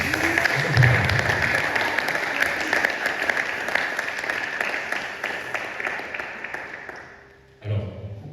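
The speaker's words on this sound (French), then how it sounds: "Est-ce que vous pouvez acclamer pour le Seigneur?" A church congregation at a Sunday service applauds loudly and steadily for several seconds, dense clapping that tapers off before a voice begins speaking near the end.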